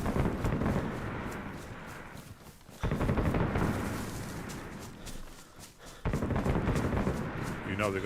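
Bursts of heavy machine gun fire from a DShK in the video game DayZ, set on the Chernarus map, rattle in sustained volleys at moderate distance, broken by brief pauses.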